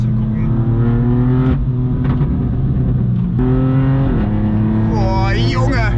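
A loud BMW M2 engine revs on a race track, heard from inside the car as a sustained, droning exhaust tone that dips and then climbs again, with a rising whine near the end.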